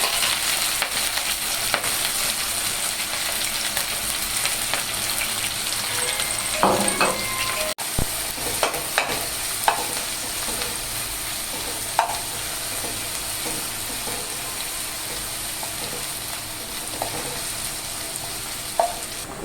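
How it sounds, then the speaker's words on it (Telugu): Chopped onions and green chillies frying in hot oil for a spicy gongura chicken curry, a steady crackling sizzle with occasional stirring clinks from a spoon against the pan. "ఇప్పుడు ఈ ఉల్లిపాయలు బ్రౌన్ కలర్ వచ్చేంత వరకు వేయించుకుందాం"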